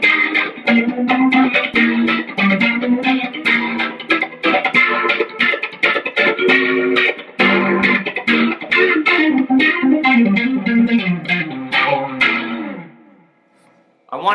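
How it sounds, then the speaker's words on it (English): Electric guitar with a little gain played through a Strymon Mobius modulation pedal, a loud, continuous bluesy phrase with swirling chorus-like modulation, ringing out alone before fading near the end. "if you put on a little bit of gain, it ends up sounding pretty cool"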